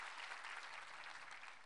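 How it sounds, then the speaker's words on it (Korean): Church congregation applauding the choir during a Sunday worship service, a steady wash of many hands clapping at moderate distance, fairly soft and even throughout with no voices over it. "은혜로운 찬양 들려주신 우리 삼부 성가대에게 한번 격려의 박수 보내겠습니다."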